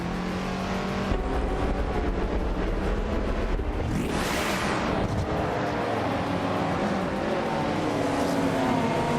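Race cars roar past in a racing video game, engines revving and a loud close pass sweeping by midway, with continuous engine drone throughout and no talk.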